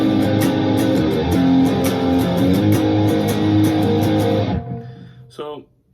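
Electric guitar strums the chorus chords of a song with a distorted, effects-laden tone, sustained and loud for several seconds before the notes are cut off and fade near the end.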